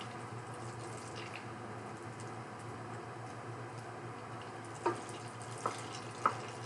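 Butter melts slowly in a pan on low heat, making a faint, steady soft sizzle with a few light ticks and taps near the end.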